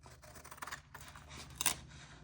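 Scissors snip through the back part of a sheet on a desk, a few short close cuts with a sharper crunch near the end, quiet and without talk.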